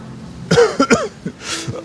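A few close, harsh coughs in quick succession, followed by a breathy exhale.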